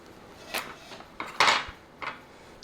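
A knife chops ripe bananas on a cutting board in a home kitchen, giving a few soft, separate clicks and scrapes, close and fairly quiet, with one stronger cut near the middle.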